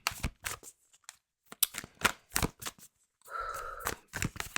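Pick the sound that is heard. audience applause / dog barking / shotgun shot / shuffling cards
shuffling cards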